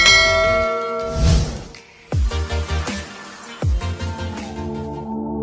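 A notification bell effect of bright, ringing chimes that decay over a sustained tonal bed, followed by several punchy struck tones, loud and close with no voices.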